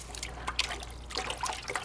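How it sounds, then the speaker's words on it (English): A sponge is rinsed in saltwater aquarium water, giving soft close trickling and dripping splashes in short irregular bursts, quiet and without talk. "I'm actually going to clean off this sponge real quick in the water that I pulled out"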